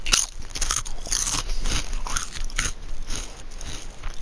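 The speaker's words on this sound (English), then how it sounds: "I'm sorry for chewing, but I'm like really hungry too." Crunchy biting and chewing close to the mic, with repeated crisp crunches and wet mastication running steadily throughout, the speaker eating while playing Dying Light.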